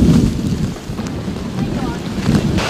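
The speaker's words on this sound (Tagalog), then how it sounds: "malakas na hangin at hampas ng alon sa dalampasigan ang nanalasa sa bayan ng Dolores, Eastern Samar" Strong typhoon wind and crashing waves hit the shore at Dolores, Eastern Samar, with loud gusty buffeting rumbling over the microphone and surging surf, under faint talk.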